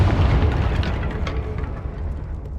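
A Confringo fire spell explodes in Hogwarts Legacy, a loud booming blast with deep rumble that decays steadily over a couple of seconds, no voices.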